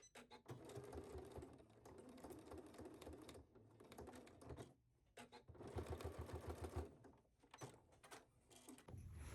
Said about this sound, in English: we are going to edge stitch this at our machine